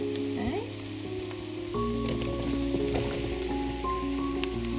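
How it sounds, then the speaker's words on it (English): Mushrooms dropped into a hot pan that already holds garlic, for cream of mushroom soup, set off a loud, continuous sizzle that rises noticeably after a brief quieter moment, with scattered spits and crackles over a steady frying hiss. "now it's time to add our mushrooms"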